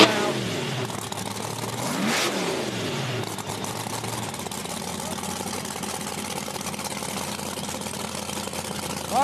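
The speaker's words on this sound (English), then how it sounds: "So Bill Lutz's car does not sound good after the burnout." A drag racing car's engine runs rough and uneven after a burnout at a raceway, with a loud rev swell early on that gives way to a ragged, sputtering idle. The sound carries steadily at a moderate distance.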